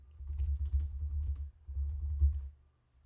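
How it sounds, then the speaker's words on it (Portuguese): Rapid keyboard typing on a computer in two bursts, with close, quick key clicks in a steady flurry before a brief near-silent tail. "vou até digitar aqui"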